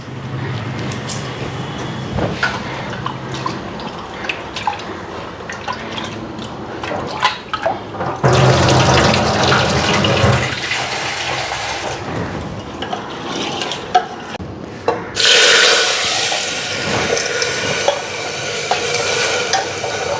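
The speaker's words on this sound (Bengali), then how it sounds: "আর ডালটা ধুয়া দিয়া দিলাম" Running tap water pours over lentils as they are washed, loud gushing stretches separated by clattering, scraping handling and swishing, all close by.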